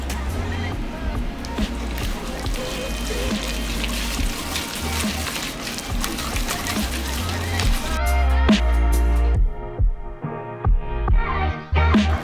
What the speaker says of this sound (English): next we're gonna mix all of our liquids in and our brown sugar